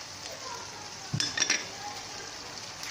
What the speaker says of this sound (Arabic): وغادي نحركهم مع بعضياتهم مزيان، وغادي نخلي حتى لادند يشرب هاد التبزيره اللي درت مع البصيله ويتشحروا غير شويه